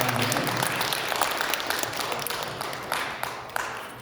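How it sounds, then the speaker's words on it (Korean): An audience at a public citizens' forum gives a round of applause, steady dense clapping that gradually tapers off to a few scattered claps, with a little speech at the start. "저 박수 좀 쳐주세요."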